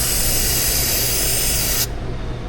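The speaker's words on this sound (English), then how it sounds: "I'm gonna hose off this whole sealing surface here" Cleaner sprayed in one continuous hiss across the sealing surface of a 2020 Silverado 6.6 diesel, loud and close, cutting off sharply near the end with a low shop rumble beneath.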